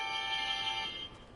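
A phone alarm rings with a steady, bright electronic tone that holds briefly and then cuts off into quiet background noise during a Fortnite match.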